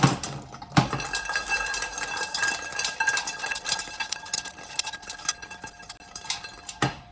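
Small boiled quail eggs shaken and rattled in a pan so their shells crack, a steady run of dense clinking and ticking taps with a few sharper knocks near the start and end.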